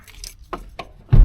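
Car keys for a 1986 Pontiac Grand Prix jingle in a few short metallic clinks, close by, ending in a louder thump.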